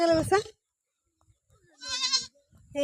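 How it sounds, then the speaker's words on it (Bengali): A baby goat lets out a single short, high bleat in a quiet pause between bursts of nearby talking. "দেখছো ছাগলের বাচ্চা"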